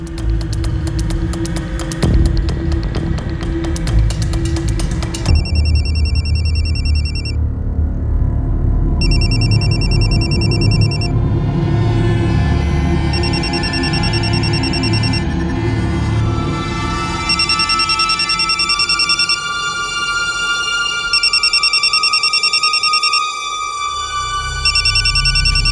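A telephone rings with repeated electronic tones, loud over a humming, throbbing background that runs throughout.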